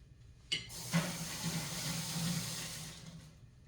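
A peeled vegetable being washed under a running kitchen tap while catering for an event, with water splashing steadily and fairly faintly and two brief louder gushes near the start, alone with no talk.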